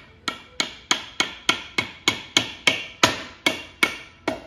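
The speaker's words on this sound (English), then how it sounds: "If we want to, we can put our pins here. And we just like hammer them here, like that." A hammer driving pins into a piano damper action during a damper replacement, landing about thirteen sharp, evenly spaced taps in a steady rhythm, close and clear with no talk.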